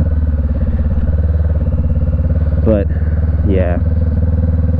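A 2017 Honda CB500F motorcycle engine runs with a steady low throbbing hum under a rider talking, with two brief rising revs.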